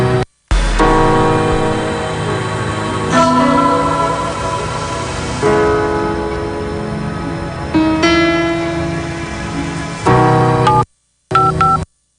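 Telephone keypad dialing tones ring out in a mobile money advert, a series of distinct beeps in separate bursts with short pauses between them, over a musical background.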